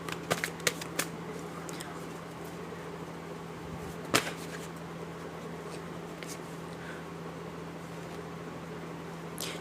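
Tarot cards are shuffled and drawn by hand indoors: a few sharp, close riffles and snaps come at the start and one more midway, over a faint steady hum.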